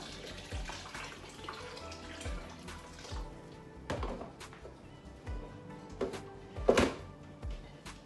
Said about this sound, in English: So what I do is I put hot water inside.